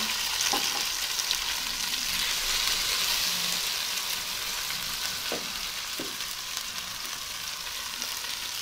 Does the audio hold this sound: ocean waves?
no